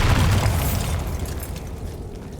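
A Bombarda blast spell goes off in Hogwarts Legacy: a loud, rumbling explosion with a heavy low boom at the start that decays into a crackling, debris-like tail over about two seconds, with no talking.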